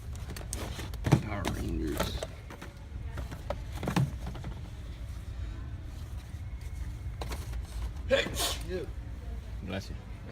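A few sharp sneezes and gasps during a family toy hunt, mixed in with handling noise and people talking.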